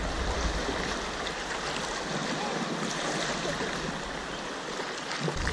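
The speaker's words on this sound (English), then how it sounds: "You hear them rapids? They call this whitewater rafting over here." River rapids roar as a continuous dense whitewater rush around a kayak, loud and close with steady broadband churning and no voices.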